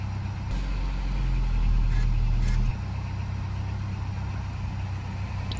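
A car engine runs at idle while a steering warning light and traction control light are showing, giving a low steady hum that swells briefly early on before settling back to a quieter idle.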